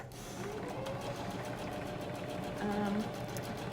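A sewing machine runs steadily while stitching a fabric face mask with an air filter slot and nose wire, its rapid needle clatter forming an even rhythmic chatter, close and moderately quiet, without pause.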